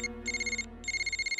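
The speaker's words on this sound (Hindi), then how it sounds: "Phone uncle." A telephone rings in a Hindi-dubbed Telugu film scene, with close, bright electronic ring pulses in two short bursts over a low background hum.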